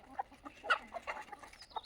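Desi Indian chickens clucking on a poultry farm, several short scattered clucks near and far, moderately faint, with no talk.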